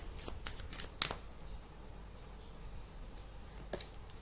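Tarot cards being handled and drawn: a few soft papery riffles and flicks, one sharper snap near the start and another later, faint and close against a quiet room.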